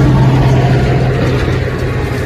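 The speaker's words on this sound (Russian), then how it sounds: "Тут еще машины ездят, шумят." A car on a road in the Moscow region gives a loud, close, steady rumble of engine and tyre noise that fills the whole moment without a clear rise or fall.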